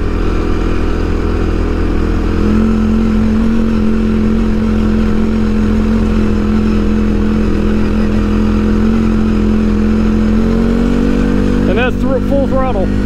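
A CFMOTO CFORCE 400 ATV engine drones loud and steady at full throttle on a trail, with a sustained tone that shifts pitch near the end, as a rider's voice talks over it.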